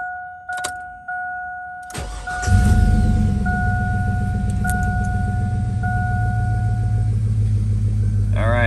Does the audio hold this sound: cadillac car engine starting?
yes